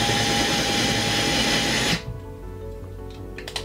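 An IKEA FIXA 7.2V lithium-ion cordless screwdriver drill whirs loudly and steadily for about two seconds, then stops, leaving a quiet room with faint small rattles and handling noise.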